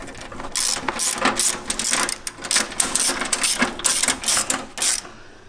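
Bolt on a Jeep JL Wrangler security deck enclosure being tightened with a 1/2 inch ratchet wrench, a rapid run of sharp metallic clicks in uneven bursts, close and alone.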